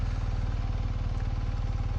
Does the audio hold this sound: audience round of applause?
no